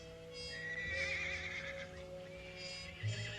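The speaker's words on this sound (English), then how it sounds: "Seems to me I heard a horse" A horse neighs once far off in an open ranch setting, a thin drawn-out whinny heard faintly over a steady background with no voices.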